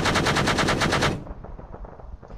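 Close, loud machine gun fire in the video game Arma 3, a rapid rhythmic burst of about a second that stops abruptly, leaving rumbling echoes and distant shots.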